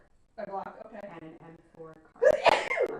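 A sharp, loud sneeze bursts out near the end, right after a person's calm speech.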